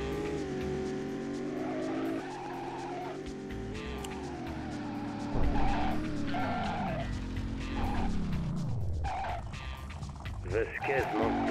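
A booby-trapped car in the Driver 2 video game, its engine droning and revving while tires squeal and skid in long sweeping slides, loud and close throughout, with someone talking over parts of it.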